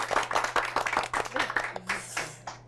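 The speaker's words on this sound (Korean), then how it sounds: "박수 부탁드립니다." An audience at a book forum claps to welcome an author, a brisk run of close hand claps that thins out and fades by the end.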